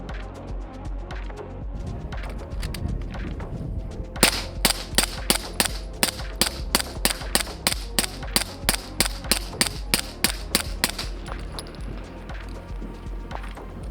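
A Flux Raider X pistol fitted with a Huxwrx 9 suppressor, a long string of sharp, evenly spaced muffled shots fired through a full magazine, close and fairly loud after a few seconds of quiet handling noise.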